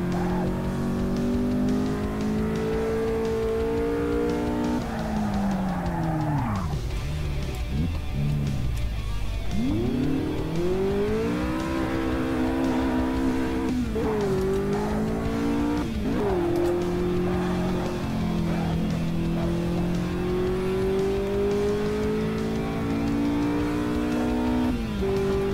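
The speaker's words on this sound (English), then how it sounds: "Really rev the bollocks off it." A Renault 8 Gordini's engine revs hard on a hill climb. It sounds loud and close and keeps going without a break, with the pitch rising and falling as it accelerates and shifts through the gears.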